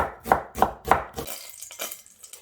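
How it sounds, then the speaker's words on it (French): A knife chops onions on a board with three sharp, evenly spaced thuds, followed by softer, quicker taps and scraping, close and clear with no talk. "Je coupe tous les oignons"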